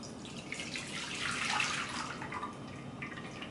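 Dissolved liquid is poured into an 8x8 inch baking pan for a chocolate pudding cake, giving a steady close splashing trickle that swells in the middle and eases off toward the end, with no talking.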